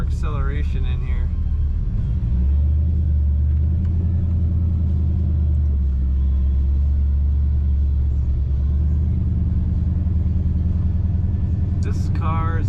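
A 1962 Chevrolet Nova accelerates around a roundabout, its engine a steady, loud low rumble that swells and holds for most of the stretch, with brief voices at the start and end.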